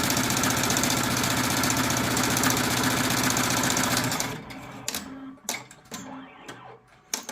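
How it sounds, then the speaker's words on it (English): An embroidery machine sews a basic satin-stitch design in black thread, chattering loudly and steadily for about four seconds before stopping, followed by quieter scattered clicks and thumps. "This is doing a basic satin stitch, so nothing too crazy."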